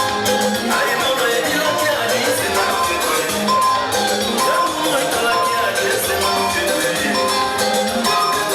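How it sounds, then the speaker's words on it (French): A wedding crowd for newlyweds roars with cheering, clapping and shouts in a loud, dense, continuous wall of noise, with music and voices mixed in throughout. "Est-ce qu'on peut faire un maximum de bruit pour les mariés? Applaudissez pour le roi et la reine."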